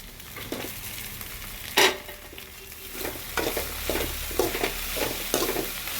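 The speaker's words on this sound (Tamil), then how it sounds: "இது நல்லா இப்போ பரட்டி எடுத்துக்கலாம்" Cut idli being stir-fried in a pan for an idli egg fry snack, a steady sizzle broken by repeated scraping stirs and one sharp clatter early on, close and moderately loud with no voices.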